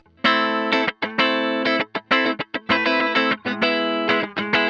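Electric guitar played through the compressor effect of a NUX MG30 multi-effects pedalboard: a run of sustained, evenly leveled chords and notes with brief gaps, loud and alone with no talking.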